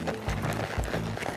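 Horse hoofbeats at a lope during lead-change schooling, a few soft rhythmic thuds in quick succession, close by and fairly faint.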